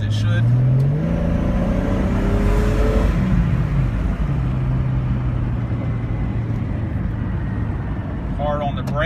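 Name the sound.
1999 Jeep Cherokee XJ hard acceleration, Flowmaster exhaust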